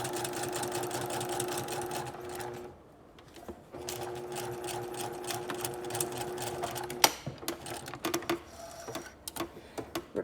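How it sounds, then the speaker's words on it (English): A sewing machine stitches a puff sleeve seam with a rapid, even mechanical whir, stopping briefly once, then resuming before giving way to scattered clicks and fabric handling near the end. "Begin with a back stitch and sew at 1/2 inch seam allowance."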